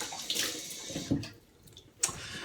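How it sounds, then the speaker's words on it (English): Tap water runs and splashes in brief bursts as someone rinses off after shaving, close by, with short pauses between the splashes. "Just gonna rinse off."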